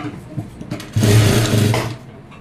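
A sewing machine runs a short burst along a blouse side seam, a loud close whirring stitch lasting about a second after soft handling noises, then trailing off.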